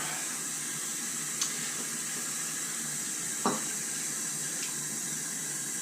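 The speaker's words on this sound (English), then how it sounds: "the water out of my scuttle and refill with hot water." Running tap water hisses steadily and close, refilling a shaving scuttle with hot water, with a couple of faint clinks and no talking.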